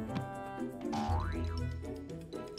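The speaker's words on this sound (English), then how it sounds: "a lot of boing sound effects" A springy cartoon boing effect from the Mr Bean video game rises and falls in pitch once over bouncy game music, loud and close with no talk.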